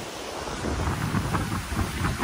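A strongly flowing river rushes beneath a bridge in the Andharban jungle of Maharashtra, making a loud, steady, close roar of turbulent water that stays even throughout, with no voices.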